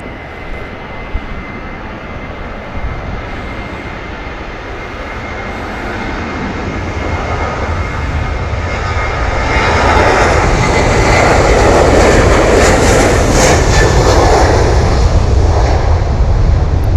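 A Ryanair jet airliner takes off at Manchester, its engine roar building gradually from a distant rumble to a loud, broad blast over about sixteen seconds, with no talk.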